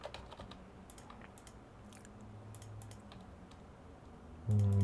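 Computer keyboard typing, a quick run of light close key clicks in short bursts with pauses between, fairly quiet and with no talk.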